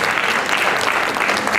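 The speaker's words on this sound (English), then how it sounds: "Give Mr. Meeks one more round of applause." Audience at a hospitality training programme graduation gives a steady, loud round of applause, continuous dense clapping throughout.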